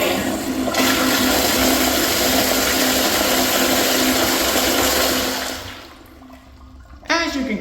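A Kohler Kingston 1.28 gallon toilet from the 2010s flushes with a loud, steady rush of bowl rinse water for about five seconds, then trails off into quiet refill gurgles.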